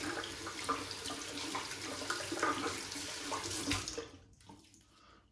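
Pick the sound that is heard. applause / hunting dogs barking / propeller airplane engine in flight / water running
water running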